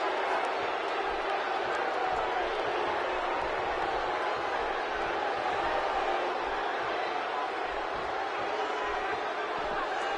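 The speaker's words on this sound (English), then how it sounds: "by the sound of this crowd, I think they're getting what they wanted" Steady broadband crowd roar from a WWE 2K17 wrestling match audience, loud and continuous for the whole stretch with no clear peaks or individual voices standing out.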